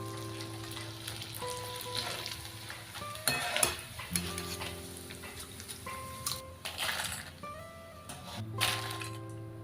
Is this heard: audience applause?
no